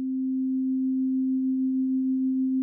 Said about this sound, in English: you can hear amplitude modulation is happening, and that's individual per operator.